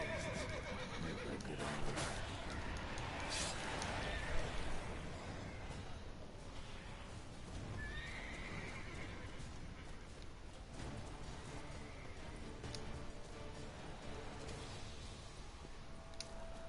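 A horse whinnies once amid a dense, continuous Witcher 3 game soundscape of clattering and rustling, with further faint animal noises scattered through.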